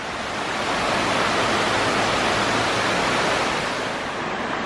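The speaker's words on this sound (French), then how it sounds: "Là, ça fait plein de petites cascades" Steady, rushing water from many small waterfalls cascading along a river in Japan fills the scene, a dense roar of flow that stays loud and even throughout, with no voices.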